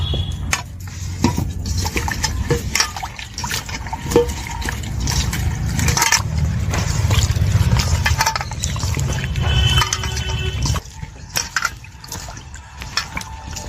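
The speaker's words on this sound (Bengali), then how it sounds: "এবার আমগুলো আমি ভালো করে ধুয়ে নেব" Quartered mango pieces being washed in a basin of water, with steady sloshing, splashing and clinking of pieces against the vessel throughout, close and fairly loud, no talking.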